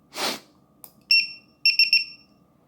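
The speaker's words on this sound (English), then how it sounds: "When it first comes on, it tells you what it's in. It's 1 beep, and then it's 2 beeps." A Drone Keeper Mini lost-model alarm sounds one short electronic beep, then after a pause a quick burst of several high-pitched beeps, close and clear, following a brief rustle.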